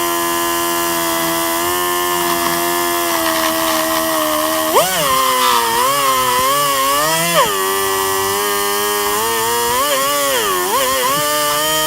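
A carbide tool chisels into a weld positioner part, driven by a loud, sustained high-pitched whine from a power tool. The pitch wavers and dips with bursts of cutting load.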